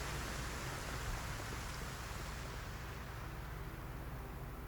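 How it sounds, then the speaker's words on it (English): Heavy rain pours steadily outside, a deafening, dense, even hiss with no breaks and no voices. "That rain is just deafening outside."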